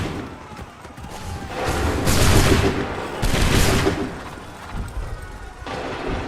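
Musket volley gunfire in Assassin's Creed 3, with two heavy rolling bursts of massed shots and booms rising over battlefield noise, close and loud.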